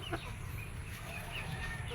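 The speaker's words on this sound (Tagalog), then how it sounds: "ipapakita ko sa inyo yung ating gagamutin na manok" A sick gamecock with a cold and runny eyes gives a few soft, brief clucks near the start over a faint, steady background hum.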